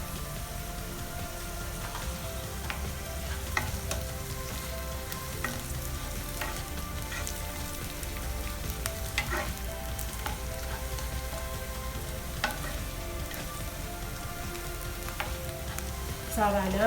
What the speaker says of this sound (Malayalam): ഇനി നമുക്കിതിലേക്ക് ഈ 2 തണ്ട് കറിവേപ്പില ആഡ് ചെയ്ത് കൊടുക്കാം.